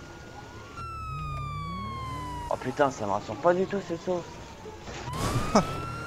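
Police car sirens in GTA 5 wail in long falling and rising tones throughout, with excited French talk over them.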